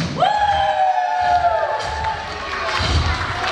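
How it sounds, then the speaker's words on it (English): A crowd of children and grown-ups cheering and shouting at a live dinosaur show at Rockley Park, loud and lively, with a long rising shout at the start and thumps underneath. "And the crowd goes wild!"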